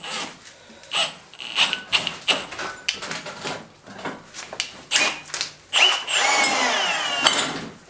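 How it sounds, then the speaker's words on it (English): Power drill running in bursts on a DIY treadmill-to-belt-grinder conversion after penetrating oil is sprayed, stop-start whirring with short pauses, ending in a longer sustained whine. "And then we're just going to drill it."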